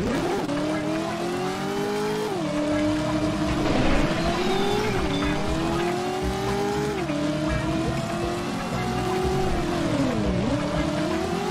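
In the PS1 video game Driver, a car's engine drones steadily, its pitch swinging up and down through gear changes, with tire squeal over a continuous loud rumble and no voices.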